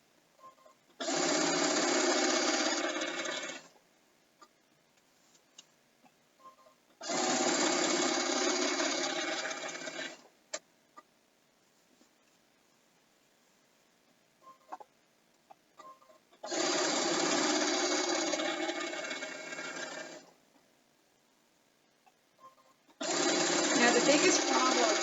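A pedal-driven sewing machine quilting a large quilt runs in four long, loud bursts of rapid stitching, each lasting a few seconds, separated by near-silent pauses with faint clicks.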